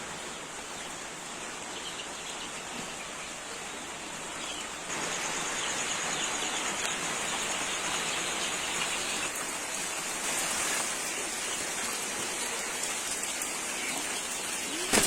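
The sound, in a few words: heavy rain falling in the morning at a poultry farm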